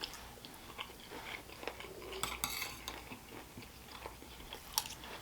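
A wooden spoon clinking and scraping on a plate of shrimp fried rice, soft irregular taps and scrapes mixed with faint chewing, close but quiet.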